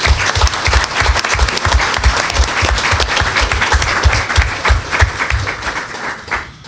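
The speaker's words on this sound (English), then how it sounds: "I think we owe him a round of applause" Loud, close applause for a retiring sheriff at a League of Women Voters forum, many hands clapping steadily with a strong, rhythmic thump from nearby claps running through the whole stretch.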